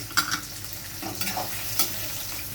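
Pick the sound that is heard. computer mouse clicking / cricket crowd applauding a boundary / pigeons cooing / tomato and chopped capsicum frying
tomato and chopped capsicum frying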